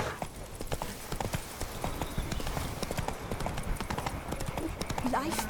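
Hooves clip-clop in a steady galloping rhythm as the horse Roach runs in The Witcher 3 video game, close and continuous over a bed of ambient game sound, with a brief whinny-like call near the end.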